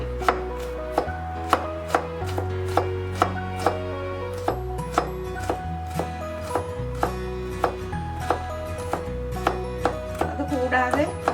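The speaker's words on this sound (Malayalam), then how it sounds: "ചെറിയൊരു പച്ചമുളക്, അത് ചെറുതായി പൊടി പോലെ അരിഞ്ഞ് അതും ഞാൻ ചേർക്കുന്നുണ്ട്" A knife finely chops green chili on a cutting board in a home kitchen, striking in a quick, even rhythm of about twenty crisp, close taps with no voices.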